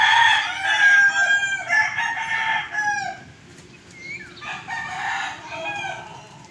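A pair of farm turkeys call close by in several bursts of rapid, warbling gobbles, with short pauses between them.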